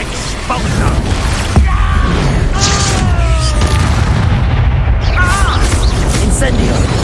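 Booming spell blasts from the Expulso explosion spell in Hogwarts Legacy thump and rumble over constant game noise, while a voice talks between the impacts.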